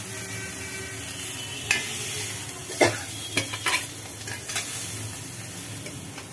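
Leafy greens fry in a hot wok, a steady sizzle broken by several sharp scrapes and clanks as a utensil stirs them against the metal.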